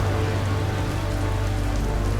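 Steady daytime rain falls hard on a surface nearby, a dense even hiss of drops with no voices, constant from start to finish.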